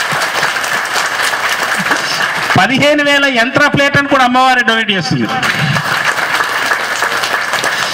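At a Koti Kumkumarchana temple gathering at Rajashyamala Peetam in Hyderabad, the crowd applauds a donor with sustained clapping that runs beneath and around someone speaking loudly into a microphone.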